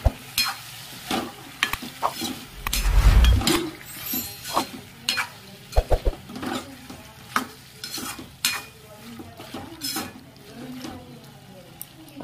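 A spatula scrapes and clatters in a pan of dry potato sabzi as it fries, with irregular loud stirring strokes over a low sizzle. Someone talks intermittently throughout.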